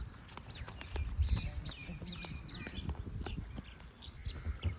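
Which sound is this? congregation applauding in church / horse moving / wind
horse moving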